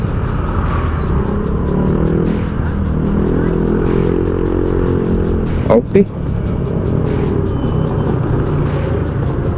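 Rush-hour road traffic with cars and small motorcycles, a steady loud engine and tire rumble throughout with a brief sharp noise midway; a person speaks briefly.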